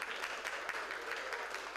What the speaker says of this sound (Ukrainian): В актовій залі гімназії Володимира Балуха зустрічають оплесками.